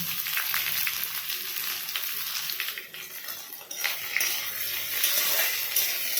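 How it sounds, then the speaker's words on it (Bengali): Pumpkin and onions sizzle steadily in hot oil in a pan, a continuous close crackling and hiss with occasional stirring, no talk. "আমার আবার এই পেঁয়াজ দিয়ে কুমড়ো ভাজাটা ভীষণ ভালো লাগে"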